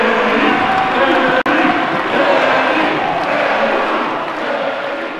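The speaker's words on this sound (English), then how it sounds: "and the crowd went wild." A strongman competition crowd roars and cheers wildly, a loud, dense, continuous wall of voices and shouting that holds steady throughout, with one brief dropout partway through.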